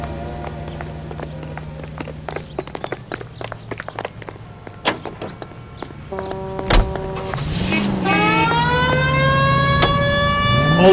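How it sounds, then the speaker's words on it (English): Police car siren in the 1940s Los Angeles crime video game L.A. Noire, winding up loudly near the end over rattling in-car engine and road noise, rising and wailing as it continues. "We have a siren."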